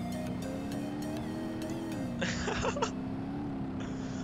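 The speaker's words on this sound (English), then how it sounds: "that whistle sounds so amazing" A steady engine drone from a Nissan S13 200SX drift build in BeamNG.drive, with a high, whistling turbo whine riding on top, punctuated by a brief burst of hissing release midway.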